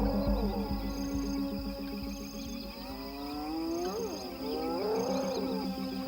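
Hyenas call across the open night near Ngorongoro in Tanzania, rising and falling whooping cries that swoop over a steady ambient hum, several calls in sequence at moderate distance.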